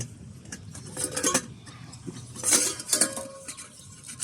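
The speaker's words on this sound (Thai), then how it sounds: "เป็นชุดหม้อสนามนะ" A camping cookware set of metal pots, lids and a frying pan is handled up close, with bright clanks and clinks in two short bursts over a quiet background, and no talking.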